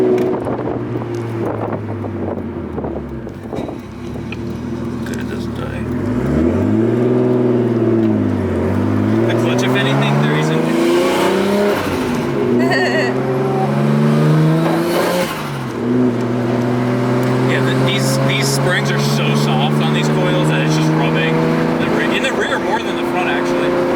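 Fully built Nissan R34 Skyline engine revving and accelerating through gear changes inside the right-hand-drive car at around 80 mph, loud and steady with rising and falling engine tones, wind noise and occasional talk over it.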